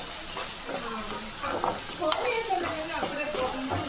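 Tomatoes being stirred and fried in a pan for a prawn egg curry, with steady sizzling and intermittent scraping stirs of a utensil against the pan, close by.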